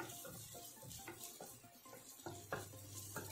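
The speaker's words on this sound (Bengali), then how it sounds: "মশলাগুলোকে ভালো করে ভেজে নিতে হবে যাতে এর কাঁচা গন্ধটা চলে যায়।" Chopped green chillies and crushed ginger fry with spices in a pan, with a soft sizzle under several light stirring scrapes and spoon clinks, quiet and close.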